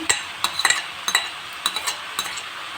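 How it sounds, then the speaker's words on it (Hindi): Fried chicken being stirred into spices in a kadai for desi-style chow mein, with a low sizzle under sharp, irregular metal clinks and scrapes of the spoon against the pan, close by. "अब मैं डाल दूँगी इसके अंदर ये सारी चिकन जो मैंने फ्राई की थी"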